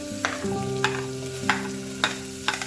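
Vegetables for pav bhaji fry in melted butter, a close steady sizzle punctuated by about five sharp spatula scrapes at a regular pace, with no speech.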